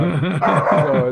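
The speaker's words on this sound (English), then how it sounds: "that's my dog decided to come down into the studio here, so we'll see if we can quiet her down here" A dog barks and yips in a home studio, a quick run of sharp, loud barks close to the microphone with no voices over them.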